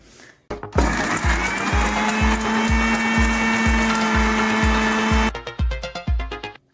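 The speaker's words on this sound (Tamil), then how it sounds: "அதை ஒரு மிக்ஸி ஜாரில் போட்டு ஃபைன் பேஸ்ட்டாக அரைச்சி எடுத்துக்கணும்" A mixer grinder grinds a fine paste, roaring loudly for several seconds with a rhythmic knocking underneath, then winding down in sputtering pulses.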